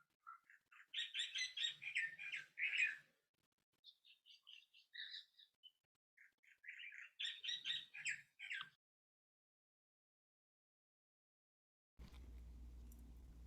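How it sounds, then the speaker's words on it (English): Birds chirp and sing in two lively bursts of bright, rapid trills and tweets with a sparse scatter of calls between, fairly close and clear, before a low rumbling noise takes over at the end. "Please thank those birds too, Tessa, for joining you in that beautiful re"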